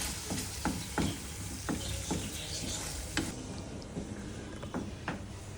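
Spiced chickpea curry with onion, bay leaf, chilli powder, turmeric and garam masala being stirred in a frying pan: a constant sizzle under repeated sharp scrapes and taps of the spoon in an uneven rhythm.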